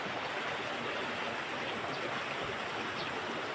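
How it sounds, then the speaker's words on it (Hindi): Mountain river water flows steadily past a hillside village, a continuous broadband rush with no breaks, fairly soft and alone without voices. "ये नदी हमारी कभी नहीं सूखती है, हम इसको बचपन से ऐसे ही देखते आ रहे हैं।"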